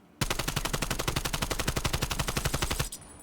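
Sustained automatic gunfire from a Call of Duty match, a rapid steady burst of evenly spaced shots fired at close range for nearly three seconds before cutting off abruptly, with no talk over it.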